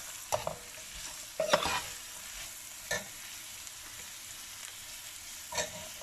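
Carrots cook dry in a pan without water for vegetable achard, a soft low sizzle broken by a few scraping stirs, fairly quiet.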